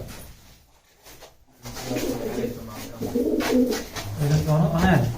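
Racing pigeons being fed before a 51-kilometre tournament coo in low, rolling bursts close by, growing louder and fuller toward the end, with people talking alongside.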